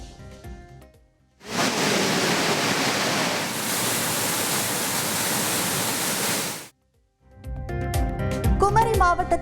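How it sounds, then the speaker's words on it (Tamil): Courtallam waterfalls in flood after heavy rain in the Western Ghats: a loud, dense roar of rushing water holds for about five seconds, then cuts off abruptly. "மேற்கு தொடர்ச்சி மலைப்பகுதியில் பெய்த கனமழையால் குற்றால அருவிகளில் வெள்ளப்பெருக்கு"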